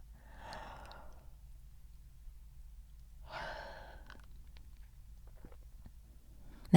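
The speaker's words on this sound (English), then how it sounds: "Now a yawn to help you." A person yawns twice in a quiet room, two drawn-out breathy swells a few seconds apart, soft and close, followed by faint clicks and small movement noises.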